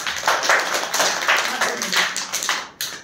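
Classroom of primary school students clapping for a classmate, a burst of uneven hand claps with a steady rhythm, close and fairly loud, with children's voices mixed in.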